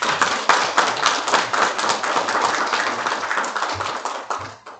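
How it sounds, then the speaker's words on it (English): An audience at the World Journalists Conference 2023 gives a special session a round of applause, a brisk, fairly loud burst of many hands clapping that thins out toward the end. "Let's give a big round of applause to Mr. Che for sharing his expertise and insights."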